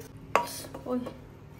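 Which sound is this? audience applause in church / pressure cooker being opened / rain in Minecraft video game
pressure cooker being opened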